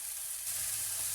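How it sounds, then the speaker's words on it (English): Beef pieces browning in a hot pan for a stew give off a steady, close sizzle and crackle of frying fat that carries on without a break, with no voices over it. "The meat's had a few minutes to brown off and that."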